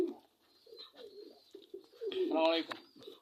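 Soft coos from white Bombai pigeons in a loft repeat against a quiet background, with a louder, fuller cooing burst near the end.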